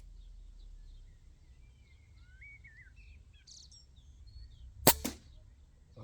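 A single sharp shot from an RTI Arms Prophet One air rifle, a loud abrupt crack followed by a brief second impact, set against a quiet outdoor backdrop with birds chirping.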